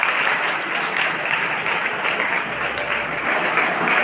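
An audience at a devotional katha gathering claps loudly and steadily in a continuous, dense round of applause that holds at an even level throughout.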